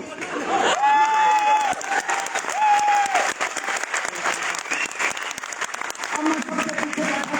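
Audience at a motivational speech breaks into applause that fills the whole stretch, steady clapping with some cheering and whistle-like tones near the start, loud and close in a hall.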